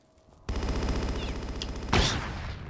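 Pistol fire aimed at a small barrel in Tomb Raider IV: a sustained loud volley of rapid shots running for about two seconds, followed by a sharper burst that points to the barrel being hit.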